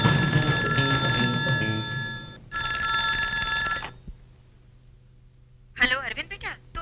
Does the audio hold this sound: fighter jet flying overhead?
no